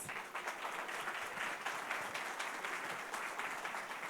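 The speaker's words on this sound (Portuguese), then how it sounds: "Agradecer mais uma vez aqui nossos palestrantes, uma salva de palmas." An audience applauds panel speakers at a conference session on digital transformation and artificial intelligence, with steady, even clapping that holds for the whole stretch and sounds faint and somewhat distant.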